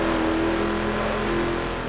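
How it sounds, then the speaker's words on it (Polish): A car races at about 256 km/h in the driving game The Crew, its engine a loud, steady high-speed drone with no talk over it. "O, mój samochód już jedzie 256 km na godzinę"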